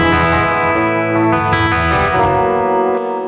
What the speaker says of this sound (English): It had that really nice chorus sound to it also as well.